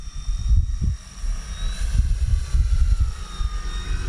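E-flite Turbo Timber RC plane cruising slowly overhead with full flaps, a steady electric motor hum with a thin high whine, continuous over rumbling wind noise.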